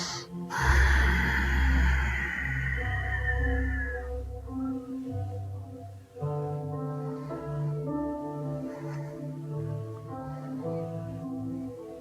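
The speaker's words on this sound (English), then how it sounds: "While breathing." A deep, audible breath is drawn in and released during a yoga session, loud and close at first and then fading, with soft tonal sounds continuing underneath.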